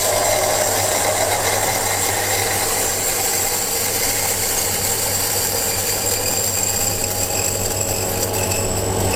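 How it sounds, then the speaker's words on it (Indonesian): An MB 600 coffee grinder running continuously with a dense, steady grinding whir and rattle of coffee beans, close and loud throughout with no talking. "pada saat kita ingin memasukkan biji grindernya dinyalain dulu"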